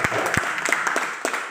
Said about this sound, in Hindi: मैं निवेदन करूंगा कि एक तालियां आप सभी के लिए बज दीजिए